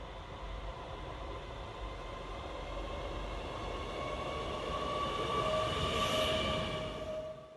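A model train rumbles steadily past on a model railway, its rolling noise swelling gradually and peaking near the end, with faint wheel whine and no voices.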